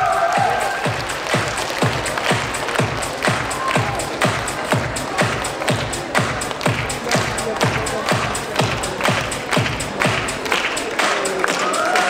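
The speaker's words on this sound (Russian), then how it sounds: "Поддержим всех участников громкими аплодисментами." Audience at an anime-themed cosplay festival's group costume parade claps steadily with rhythmic, fairly loud applause that runs the whole stretch, with some crowd voices mixed underneath.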